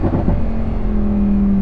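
A Lamborghini Huracan Tecnica V10 engine drones loudly and steadily, its pitch rising slightly as it revs, close by and with no voices.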